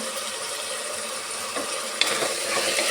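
Vegetables frying in oil for a vegetable pulao, a dense steady close-up sizzle with faint stirring movements and a small clink partway through.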